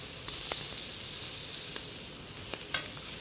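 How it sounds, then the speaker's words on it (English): Calamari tentacles on a skewer sizzle and char over a hot seafood grill, a steady close hiss with a few sharp crackles and pops scattered through it, and no voices. "The tentacles are charring nicely."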